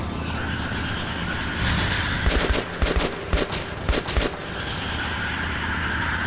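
Gunfire rings out while driving a vehicle in the Metro Last Light game: several loud, sharp bursts of shots over a steady rumbling engine background, with no voices.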